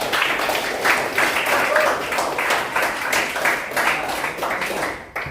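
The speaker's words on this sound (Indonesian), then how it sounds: "Untuk kelompok 4 kita kasih aplaus luar biasa." A classroom audience gives sustained applause for a student group during a teaching session, many hands clapping steadily at moderate distance before the clapping tapers off near the end.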